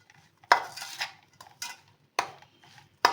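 Spoon clinks and scrapes in a bowl as mukhwas spice ingredients are stirred together with powdered sugar, a few sharp metallic knocks spaced apart with quiet between them.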